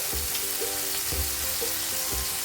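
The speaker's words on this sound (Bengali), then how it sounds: "আদাটাও কষিয়ে নেবো ভালোভাবে" Ginger and chillies sauté in a hot pan, a continuous sizzle broken by about five regular stirring scrapes, close and clear with no voices.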